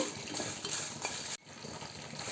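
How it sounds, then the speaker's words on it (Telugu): About twenty dried red chillies are dry roasted in a pan without oil, giving close scraping and stirring rustles with light clinks of a spoon against the pan, briefly interrupted before resuming. "అదే ప్యాన్లో ఒక 20 వరకు ఎండుమిరపకాయలు తీసుకుని డ్రైగా వేయించుకోవాలండి"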